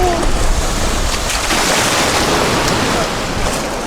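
Sea surf on a Chilean beach rushes in a loud, continuous wash of breaking waves and churning water with wind buffeting the microphone, filling the whole stretch without a break.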